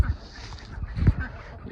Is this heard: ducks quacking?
yes